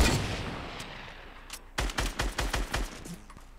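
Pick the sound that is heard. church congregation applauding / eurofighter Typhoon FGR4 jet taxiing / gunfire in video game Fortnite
gunfire in video game Fortnite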